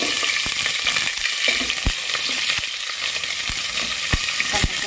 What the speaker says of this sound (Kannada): ಕರ್ಬೇವಿನ ಸೊಪ್ಪು ಹಾಕ್ಕೊತಾ ಇದ್ದೀನಿ ಎರಡು ಹಸಿಮೆಣಸಿನ್ಕಾಯಿ ಹಾಕ್ತಾಯಿದ್ದೀನಿ